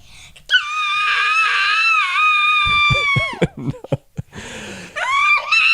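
Tabletop role-playing game players let out a loud, drawn-out, high wailing scream as if calling for help. It breaks into choppy yelps and giggly cries close to the microphone.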